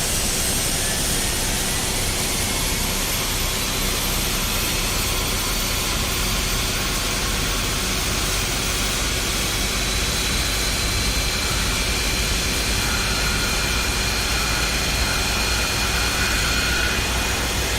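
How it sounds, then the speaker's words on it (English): A jet engine spins up on an Airbus A321 in a flight simulator, a dense continuous roar with a faint rising whine, steady and loud throughout. "engine number 1 is coming alive"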